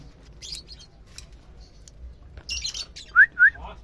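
Pet birds kept at home chirp and squawk in short bursts, with two sharp whistled calls near the end over quiet room noise and faint talk.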